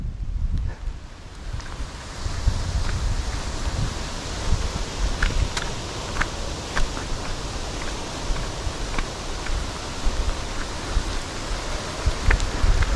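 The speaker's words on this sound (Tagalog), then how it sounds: "Ayan na ulan." Loud, steady hiss of rain with scattered sharp drips and taps, close by, mixed with gusty wind noise on the microphone.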